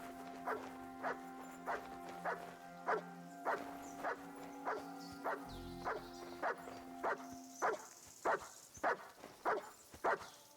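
A dog barks repeatedly in Kingdom Come: Deliverance 2, a steady run of about fifteen sharp, evenly spaced barks over a continuous low ambient hum, fairly close and moderately loud, with no talk.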